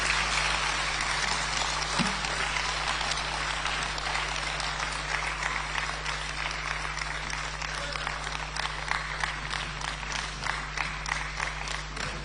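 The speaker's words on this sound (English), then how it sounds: "give our national chairman another rousing round of applause" Rally crowd at a political state-of-the-nation address in Ghana applauding after a speech, a dense continuous wash of clapping from many hands over a steady low hum, holding level throughout.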